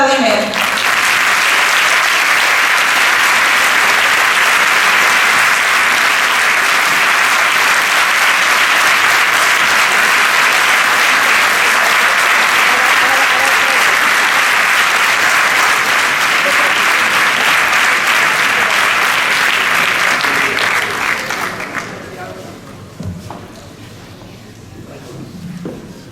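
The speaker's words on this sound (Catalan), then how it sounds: "Fort aplaudiment." A large audience at a municipal election campaign presentation claps loudly and steadily for about twenty seconds, then the applause thins and fades out into quieter room noise.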